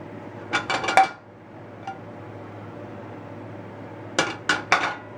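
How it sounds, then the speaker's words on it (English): Scottish shortbread pieces lifted out of a metal baking pan make two quick bursts of clinking and scraping, a brief tap between them, set against a low steady hum. "Bring the camera in here and we'll take them right out of the pan."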